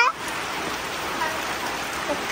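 Steady rain falls on a rural home yard, a dense, even hiss of drops that holds at the same level throughout with no clear voices.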